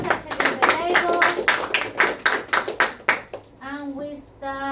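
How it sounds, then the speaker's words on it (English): A round of applause from the audience at a social deduction party game night: scattered, rhythmic hand claps mixed with ongoing talk, before a clear voice speaks alone near the end. "We get a round of applause."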